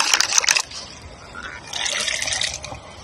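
Water poured from a small vessel over a potted plant cutting in peat and white sand, treated with a rooting solution; a short close splash at the start, then a softer steady trickle into the soil.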